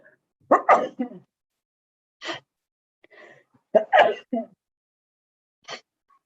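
During a faculty council meeting, a person sneezes several times in short bursts, close and fairly loud, separated by silences, with a fainter final sneeze near the end.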